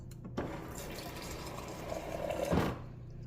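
Water runs from the dispenser of a Frigidaire Gallery refrigerator, a soft, close, steady trickle that swells slightly before cutting off.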